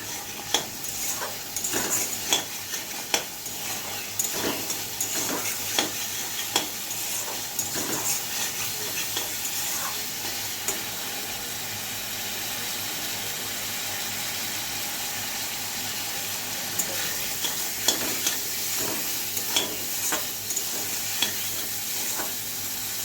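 Potatoes and eggplant sauté with spices in a pan under a continuous gentle sizzle, with frequent close scraping and tapping strokes as the pieces are stirred.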